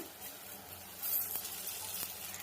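Onions and ginger paste frying in a pan give off a soft, steady sizzle with a faint hiss and a couple of light stirring clicks, heard fairly quietly without talk.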